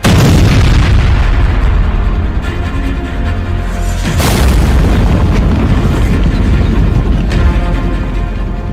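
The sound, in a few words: explosion, reported as a missile blast in Ukraine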